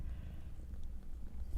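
A cat pats and bumps against a microphone, making soft, muffled low thumps in a loose, repeated rhythm, very close and quiet.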